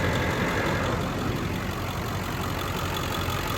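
A 2001 Ford Excursion Limited 4WD with a 7.3L Powerstroke diesel V8 idling, a steady, even broadband rumble with a low clatter that holds unchanged from start to finish, with no voices.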